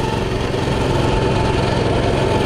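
A small Coleman CT200U mini bike engine runs steadily with its throttle stuck open, a constant loud buzzing drone that holds without letup throughout.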